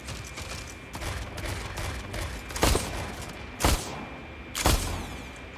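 Gunfire in the Mech Arena mech combat game, a steady rattle of shots under a constant backdrop, broken by three loud, sharp blasts spaced about a second apart.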